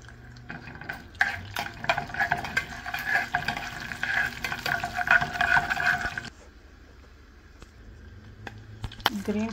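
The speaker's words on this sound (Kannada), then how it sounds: "ಎಣ್ಣೆ ಹಾಕ್ಬಿಟ್ಟು ಉದ್ದಿನಬೇಳೆ, ಕಡಲೆಬೇಳೆ ಹಾಕಿದ್ದೀನಿ." Urad dal and chana dal fry in hot oil, with a busy close sizzle and popping over scattered clinks for about six seconds. The sizzle then drops to a faint quieter hiss, with a few knocks near the end.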